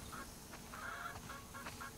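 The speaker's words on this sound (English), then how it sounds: "They have chickens." Chickens on a farm in the video game The Last of Us Part II, giving a few short clucks and squawks in bursts over a steady ambient background, with no talking.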